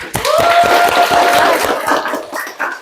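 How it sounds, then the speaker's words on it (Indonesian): A class of students claps steadily for a couple of seconds in an Indonesian classroom, dense and close, with a sustained whistle-like tone over the clapping before it tapers off. "tepuk tangan buat kalian semua."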